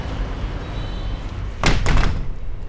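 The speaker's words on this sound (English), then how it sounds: "And I've just closed the door," A door swings shut with a short, solid thump, heard close against a low background rumble, with no voices.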